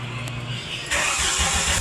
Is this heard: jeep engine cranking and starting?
yes